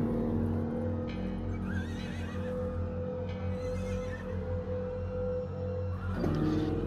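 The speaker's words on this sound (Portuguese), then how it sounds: "o barulho de cavalos é bastante intenso." Horses neigh and whinny in a stable, a game sound effect with a few wavering calls rising over a steady, loud hum and bed of stable noise that runs through, with another whinny near the end.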